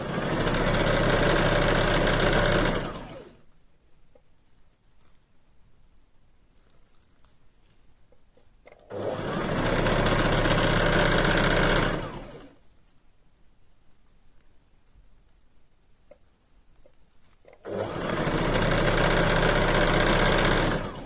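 A home sewing machine stitches a strip of fabric into string in bursts of loud, steady motor whir, about three runs of a few seconds each separated by quiet pauses.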